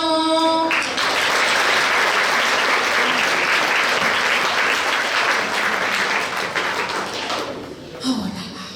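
Sustained applause from an audience cheering medal winners at a regional science fair finale, dense clapping filling nearly the whole stretch before tapering off, with a voice speaking briefly at the end.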